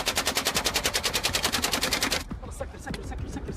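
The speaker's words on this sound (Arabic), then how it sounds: "أطلق رصاصات الغدر تنفيذا لأوامر داعش" Automatic gunfire aimed from one vehicle at a security vehicle in eastern Riyadh: a rapid, loud burst of evenly spaced shots that cuts off sharply, followed by a few scattered shots amid echoing noise and rumble.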